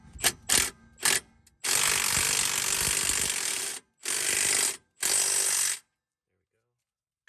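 An air impact gun or ratchet works on car suspension bolts while lowering springs are fitted: a few quick clicks, then three loud, harsh buzzing bursts of a second or two each, close by.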